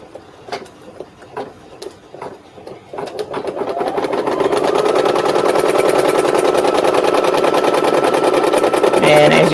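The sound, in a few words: embroidery sewing machine stitching an in-the-hoop pie top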